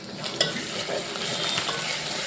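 Onions sizzle and crackle in hot oil in a pan for tomato curry, a steady close frying hiss with occasional stirring scrapes and no talk.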